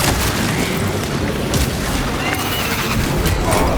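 Heavy cannon fire from a Titan in Warhammer 40,000: Space Marine 2 booms in a dense, loud rumble, deep blasts rolling continuously with a faint voice murmuring underneath.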